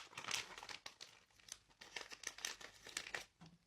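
A plastic bag of edible insects is crinkled and handled up close, producing bursts of dry rustling and crackling that come in irregular clumps, with no talk over them.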